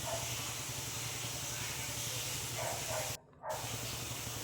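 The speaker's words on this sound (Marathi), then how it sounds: "भजी छान क्रिस्पी हो होईपर्यंत छानपैकी तळायची आहे मंद गॅसवर" Bhaji fritters fry in oil over a low gas flame, giving a steady, dense hiss and bubbling sizzle throughout that cuts out briefly near the end before resuming.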